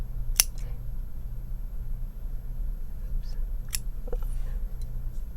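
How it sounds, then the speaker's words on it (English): Scissors snip through yarn while trimming tassels for a drop scarf, a few quiet separate cuts near the microphone against a low steady hum. "Now hang on tight as you cut your tassels."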